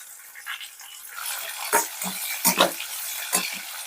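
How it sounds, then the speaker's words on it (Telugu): Onions fry in a pan, crackling and sizzling with a soft frying hiss punctuated by several sharp spattering pops close to the microphone. "ఇదిగోండి మనకి ఇంకా చిటపట్లాడుతున్న సౌండ్ వస్తుంది కదా"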